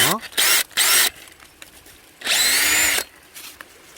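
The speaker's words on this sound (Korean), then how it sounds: "핀을 꽂아 가지고 드릴로 아, 더 가볍게 한번 뚫어보겠습니다" A power drill boring a hole into a tree trunk to tap maple sap: a motor spin-up, two short whirring bursts, then a longer steady drilling run, loud and close, with a few brief pauses between.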